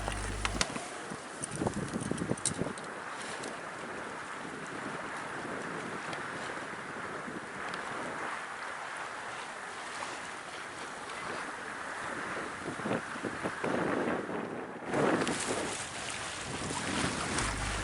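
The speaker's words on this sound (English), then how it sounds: "The wind picked up a little more and we were getting a really nice sail" Steady wind roars past the microphone aboard a sailing yacht off Bute, with water rushing along the hull beneath it, loud and continuous throughout and swelling briefly near the end.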